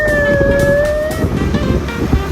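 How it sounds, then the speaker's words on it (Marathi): A loud, close vehicle siren wails with a steady held tone over rumbling engine and road noise at midnight in Nashik. "कसं आहे सायरन कसं आहे? पोलिसांपेक्षा खतरनाक आहे ना."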